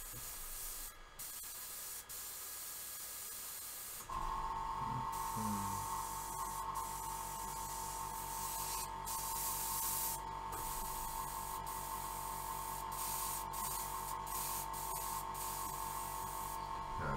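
Fengda FE-180K airbrush spraying cleaner after a blockage clears: quiet background at first, then a sudden steady, loud hissing spray that carries on to the end.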